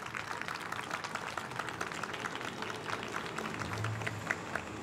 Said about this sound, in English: Give Jolene another round of applause